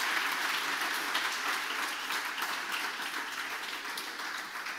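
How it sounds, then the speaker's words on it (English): Audience applause for panelists at the close of a university talk event, a steady, dense round of clapping from a seated crowd that holds evenly and tapers slightly toward the end. "A warm round of applause for Professor Nell and Mark Wennick, please."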